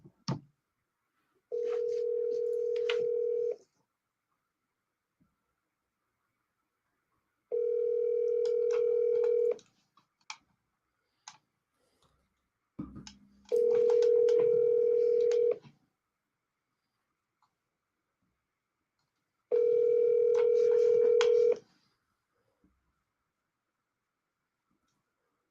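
Four steady telephone tones, each about two seconds long and spaced evenly apart, ring out during a phone call, with faint clicks from the line between them and no talking.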